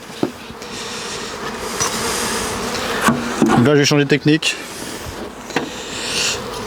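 A honeybee swarm buzzes near a small hive box set in the shade, a steady close droning hum punctuated by a few sharp knocks and thumps, while someone speaks French over it.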